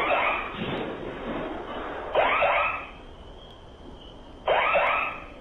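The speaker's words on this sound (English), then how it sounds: "Okay, it's an alarm." Harsh buzzing alarm bursts repeat in a regular on-off cycle, three loud pulses with quieter gaps between them.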